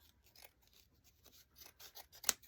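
Scissors snip through Dollar Tree craft foam folded in half to cut dog ears, a quiet run of short, close crisp cuts ending in one sharper, louder snip.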